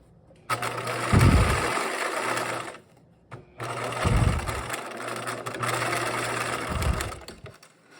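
A sewing machine backstitches a drawstring casing on a backpack, whirring in two long runs separated by a short pause, with brief thumps as the stitching starts and reverses, close and alone.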